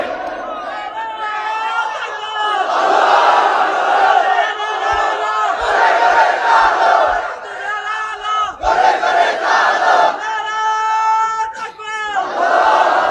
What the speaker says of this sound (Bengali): এইরকম মেহমান আসছে, আমরা এই মেহমানের জন্য তাকবীর দিচ্ছি